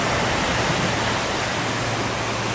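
Ocean waves on the Japanese coast near Kamakura and Yokohama, a loud, steady broadband wash of surf that fills the whole clip without any break, no voices.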